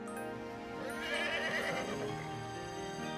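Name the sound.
horse neighing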